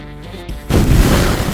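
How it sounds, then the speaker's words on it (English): After a quiet tonal stretch, a single loud cannon-like boom bursts in and rumbles on. "Is that a cannon on your cannon? Nah, that's just a warning shot."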